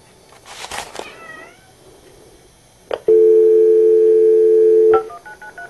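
A cat gives a short, rising meow up close, then after a pause a steady telephone tone sounds for about two seconds, followed by quick dialing beeps.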